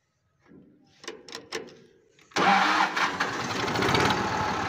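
A tractor engine cranks after a few faint clicks and knocks, then catches and settles into a loud, steady rumbling idle close by.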